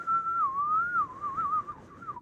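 A person whistles a wavering, eerie tune imitating the character Death from Puss in Boots, one continuous sliding note that rises and dips for about two seconds before trailing off, close and clear with no talking.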